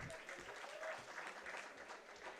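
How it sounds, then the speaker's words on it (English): An audience at the IEEE Delhi Section 2025 inaugural applauds students, a soft, continuous patter of clapping heard at a moderate distance. "MCA students, applaud your friends."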